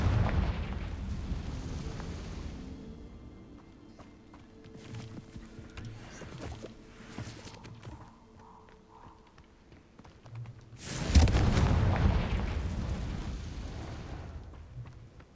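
Confringo explosion spells cast in Hogwarts Legacy, two loud booming bursts that each decay slowly, one at the start and one near the end, with quieter game effects between them.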